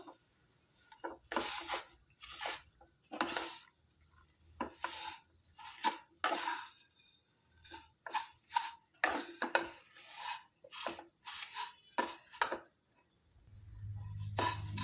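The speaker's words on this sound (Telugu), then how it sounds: "వీటిని చక్కగా ఫ్రై చేసుకుందాం" A spoon scrapes and clinks against a pan as thin vermicelli fries for sheer khurma, in short rhythmic bursts of stirring with quiet gaps between, and no talking.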